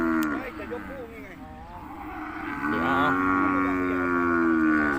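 Cattle at an outdoor cattle and buffalo market in Surin, Thailand, let out two long, nearby moos, a shorter low call followed by a louder drawn-out bellow, over a murmur of background activity.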